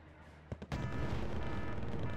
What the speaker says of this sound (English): Got our anti-tank missiles firing away